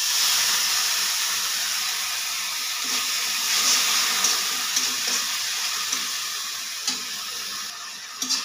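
Water poured into a pan of frying carp fish curry with salt and turmeric, giving a steady hissing, bubbling sizzle that holds at an even level throughout with a few small clinks.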